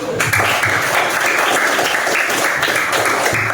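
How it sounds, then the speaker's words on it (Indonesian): Group applause for a discussion group presenting on things that break a fast, in a teacher-training class; steady, dense clapping from many people, loud and sustained throughout with a brief spoken word at the start. "Coba berikan tepuk tangan terlebih dahulu."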